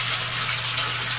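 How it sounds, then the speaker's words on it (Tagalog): Water gushes steadily into a storage tank fitted with a float switch, a continuous loud hissing pour with a low mechanical hum beneath and no voices. "Oh, narinig mo tubig."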